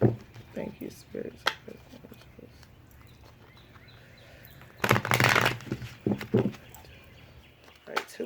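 Tarot cards being shuffled in quick riffling bursts, one loud burst midway, with a person talking intermittently around the shuffling.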